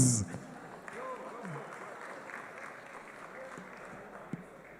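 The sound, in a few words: audience applause at esports event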